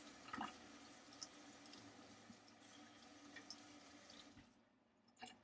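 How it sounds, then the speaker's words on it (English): A tap runs steadily into a sink at a bath-bomb workshop, a soft continuous splash with a few brighter drips, fairly quiet and without talk. "I'm going to run my water."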